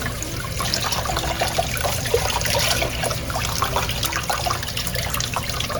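Water trickles and splashes steadily as a guinea pig is rinsed during a bath, a close, gentle running-water sound with small irregular drips.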